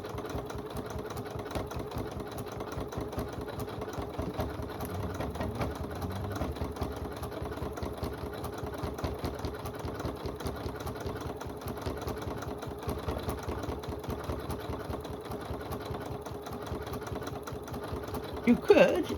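Steady, continuous whirring and rapid needle thumping of a sewing machine stitching down the binding on a poinsettia quilted runner, running close and loud throughout with a brief clatter at the end.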